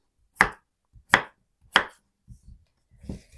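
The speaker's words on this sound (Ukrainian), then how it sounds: "Картоплю нарізаю довільними такими кубиками." Three crisp knife chops cut potatoes into cubes on a cutting board at an even pace, close by, followed by softer scraping sounds in a quiet room.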